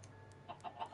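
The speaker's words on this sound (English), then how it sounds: "It's a child zombie riding a chicken!" Faint clucking from a chicken in Minecraft, a few soft, short clucks in the second half of the clip over a low steady game hum, with no talking.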